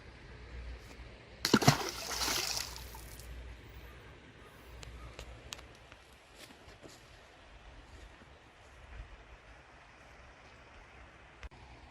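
Creek water flows steadily at low level throughout, with a brief louder splash early on and a few faint clicks over the constant soft rush.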